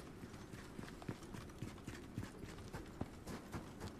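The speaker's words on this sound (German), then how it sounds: "So, da ist das Pferd." Horse hooves clip-clop in the video game Icarus, a quick, steady run of light hoofbeats that is soft and even, with no talk over it.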